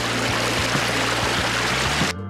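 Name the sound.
water bottle being filled through a water filter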